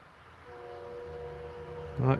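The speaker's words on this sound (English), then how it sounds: "Oh, hear the train?" A train horn sounds in the distance, a steady low tone held throughout that swells louder near the end, over faint background noise.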